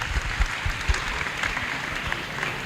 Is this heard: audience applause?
yes